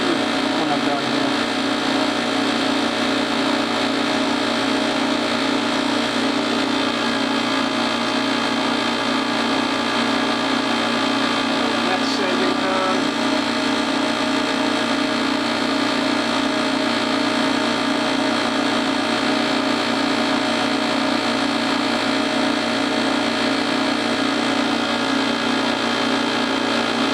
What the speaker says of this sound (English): Sanding time.